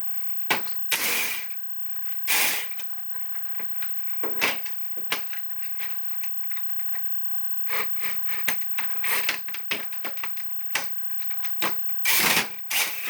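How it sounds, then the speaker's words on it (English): Screws are run into a modified Nerf Trilogy blaster: bursts of tool whirring and plastic rattling, with clicks and handling noise in between and a louder run near the end. "Okay, so let's run these screws in."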